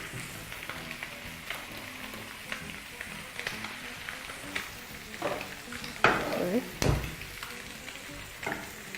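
A fish fillet cooks gently in a pan over low heat beside sautéed French beans and mushrooms, giving a soft, steady sizzle with a few louder clanks of utensils, close up and without talk.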